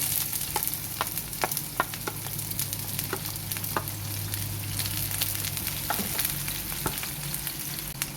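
Onions and vegetables fry in a pan with a steady, close sizzle that runs without a break. Light scraping clicks from stirring recur at uneven intervals, and nobody talks.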